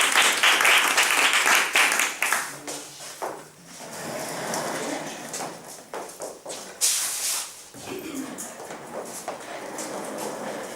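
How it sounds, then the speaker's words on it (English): An audience applauds a speaker at a speech club meeting, loud clapping with occasional cheers that swells and subsides in waves, with brief knocks and shuffling mixed in. "let's give a big round of applause for Marilena"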